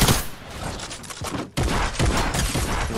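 Rapid gunfire bursts in a first-person shooter video game, loud and close, with a brief drop in the middle before another dense volley of shots.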